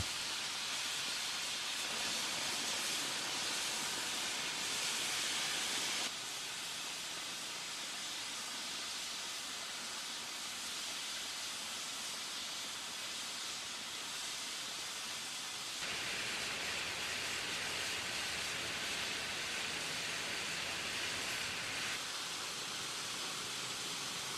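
Cutting torches burn through a steel slab, a steady loud roaring hiss that runs unbroken, with slight shifts in level as the cut continues.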